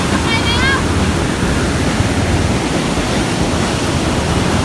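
High sea waves break and wash steadily on a beach at Phuket, a loud continuous roar of surf with a brief bird-like chirp early on.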